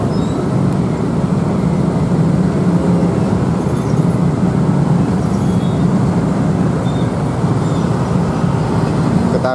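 A KRL commuter train covered in advertising stickers rolls past with a steady, loud, broadband rumble that holds evenly from start to finish.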